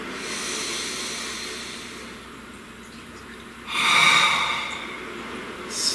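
One slow, deep breath is drawn and let out during a calm meditative moment. A long airy inhale-exhale swells in the middle of the clip over a quiet background, and a faint further breath follows at the end.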